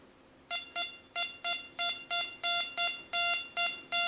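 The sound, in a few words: Rex Delta 4 metal detector beeping over Roman silver coin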